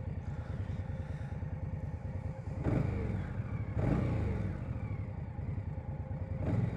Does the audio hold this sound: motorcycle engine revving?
yes